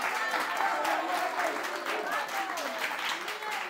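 A studio audience on a TV quiz show applauds in a continuous round of clapping, moderately loud, while voices speak over it.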